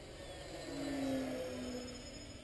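Parkzone Corsair RC plane in flight, a faint, smooth motor whine that swells and fades as it passes at a distance, with no voices.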